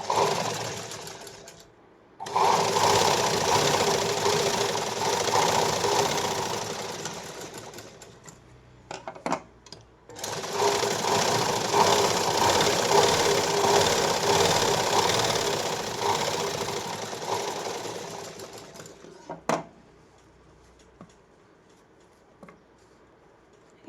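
A sewing machine double-stitches a blouse lining in two long, even runs of rapid mechanical clatter separated by a short pause, followed by a few isolated clicks and quieter handling as it stops.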